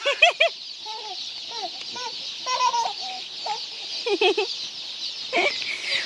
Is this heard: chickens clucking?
yes